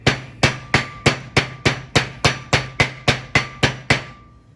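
Light hammer taps on the wheel bearing seal of a 1973 Mach 1, about thirteen crisp metallic strikes in a steady, evenly spaced rhythm, close and distinct, each ringing briefly before the next.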